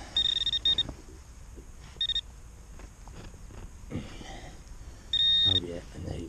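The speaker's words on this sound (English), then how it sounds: "Metal detector" A Minelab Equinox 800 metal detector gives three sharp high beeping tones, two short and one longer, separated by gaps where someone talks over outdoor background noise.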